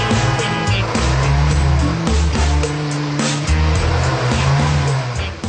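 A car pulls away with tires squealing amid loud, rough engine revving and repeated skidding bursts, close and dense throughout.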